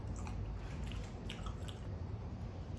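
Sweet pumpkin cheese being chewed close up: soft, moist, squishy mastication sounds repeating steadily for a few seconds, with no talking.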